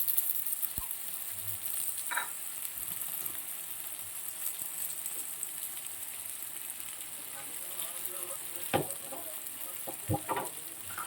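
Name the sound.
frying with mustard paste added in pan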